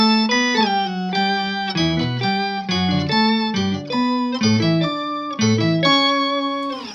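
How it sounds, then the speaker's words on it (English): Electric guitar through a Micropog octaver pedal, a short melodic line with added lower octave notes doubling each pitch, thick and upfront, played close with no voices. "So with my Micropog, for example, it sounds like this."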